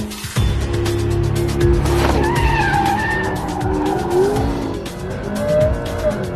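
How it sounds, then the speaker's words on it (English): A McLaren P1 power slides with loud, sustained tire squeal over a roaring engine, the squeal wavering in pitch as the car drifts. "How can you not enjoy power sliding this car?"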